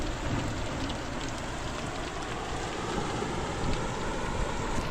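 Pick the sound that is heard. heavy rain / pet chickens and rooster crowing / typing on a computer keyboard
heavy rain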